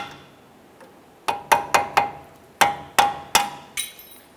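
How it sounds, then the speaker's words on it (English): A flathead screwdriver struck with a hammer taps off a horseshoe retainer on a 2007-2012 Nissan Versa CV axle, about eight sharp metallic knocks in an uneven rhythm, close by. "We're going to use a flathead screwdriver. You can use a punch, a small chisel, but we're just going to tap this off."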